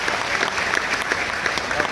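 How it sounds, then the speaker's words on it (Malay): Audience applause during a Quran talk at Wisma MUI: dense, steady clapping from a hall crowd, fairly loud and continuous for the whole stretch. "bagi tepukan pada Syauqi tuan-tuan"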